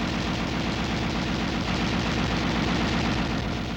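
A 7.62 mm M73 coaxial tank machine gun, air-cooled and fully automatic, firing one continuous rapid burst, loud and steady throughout with no pauses.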